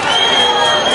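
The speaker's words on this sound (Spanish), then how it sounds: "Vamos a dar un fuerte aplauso que anda por ahí el amigo polaco" A live concert audience roars with dense crowd noise and cheering in one loud, steady wash of many voices, with no single clap standing out.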